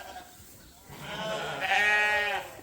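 Ewe lambs bleating on a sheep farm in hot weather, a single drawn-out wavering bleat fairly close and loud after a short quieter stretch.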